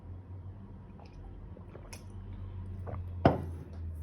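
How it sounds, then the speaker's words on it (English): A quiet sip of water: faint soft slurps and small liquid noises, followed by one sharp clink of a glass, with no voices. "Let me just take a sip of water"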